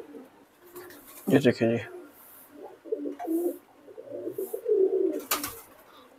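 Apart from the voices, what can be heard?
pigeons cooing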